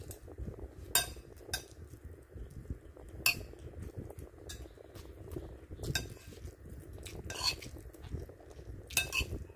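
Cabbage and three eggs are mixed with seasoning in a bowl, giving a steady close clatter of utensil against the dish with sharp clinks scattered throughout, no talking.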